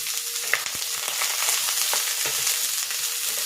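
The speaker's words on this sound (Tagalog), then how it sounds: "Ayan, igisa ko na rin dito itong sibuyas." Close, steady sizzling of onion being sautéed in a pan with ginger and garlic for chicken tinola, with bright crackling frying noise and a few soft stirring knocks throughout.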